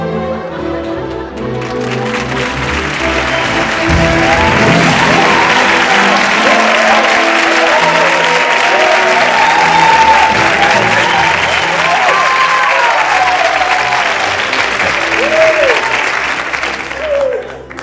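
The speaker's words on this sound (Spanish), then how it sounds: "No entiendo el aplauso" Sustained applause from a television studio audience at a late-night comedy show, loud, dense clapping rising and holding steady for most of the stretch, with some voices mixed in before it cuts off.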